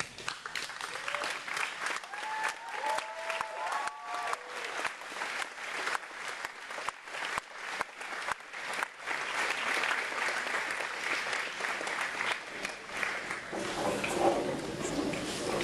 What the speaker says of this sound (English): Graduates, please stand and join me in applauding our parents and families.